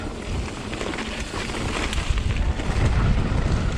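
A wind gust rushes over a sailing boat, a loud, broad roar of wind buffeting the microphone with a wash of water beneath, swelling slightly stronger toward the end and with no voices.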